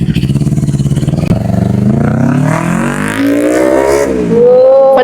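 Motorcycle engine revving loudly and steadily close by during a pre-ride check, pitch rising in a long climb and holding high near the end, with no talk over it.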